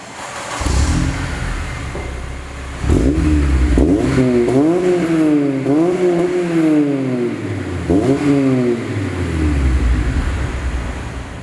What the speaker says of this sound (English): give you guys a couple revs with the Mugen exhaust